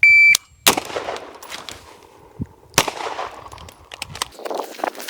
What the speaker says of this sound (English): When the buzzer goes off, fire 1, weapon on safe, transition, fire 1.